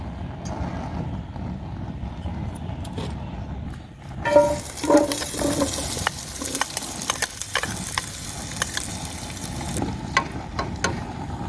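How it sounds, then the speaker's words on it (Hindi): Onions sizzle and fry in about a cup of hot oil in a pan, a steady crackling hiss that swells louder partway through and continues with small pops. "तीन अदद इसमें प्याज डालिए और इसको ब्राउन होने तक हम भून लेंगे"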